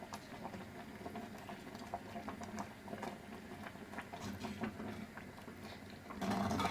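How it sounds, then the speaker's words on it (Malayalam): Thick coconut milk simmering in a pan for paal kappa, giving a soft, steady patter of small bubbles with faint pops throughout and a slightly louder burst near the end, no voices. "ഇത് തിളച്ച് വരുന്നതേ ഉള്ളൂ, ചൂടായി വരുമ്പം തന്നെ ഇത് കുറുകി വരുന്നുണ്ട്"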